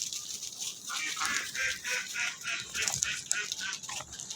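A flock of ducks on a village duck farm, with a run of quacks and honks in fairly quick succession, moderately distant and soft against an open outdoor background.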